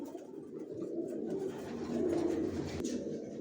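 Tagged racer pigeons, a large male and female, coo with soft, low, murmuring calls that continue steadily and fairly quietly.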